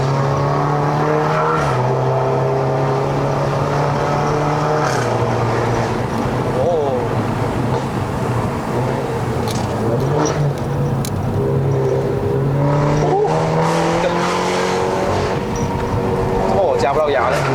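A tuned F30 BMW 320i LCI (XHP-flashed, 330 hp) pulls hard up the Genting mountain road in Malaysia. The engine drone rises steadily through the revs, with repeated climbs, loud and close inside the car, and a voice talks now and then.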